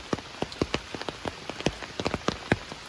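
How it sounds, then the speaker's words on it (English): Rain falls on a wooded trail at Oak Mountain, scattered drops ticking and pattering irregularly, close and soft, with no voices. "probably it's raining."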